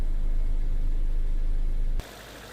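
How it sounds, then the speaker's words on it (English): A Ford Fusion engine idles during an automatic transmission fluid service, giving a low, steady rumble for about two seconds before it cuts off abruptly to a quieter hiss. "let's leave the car idling"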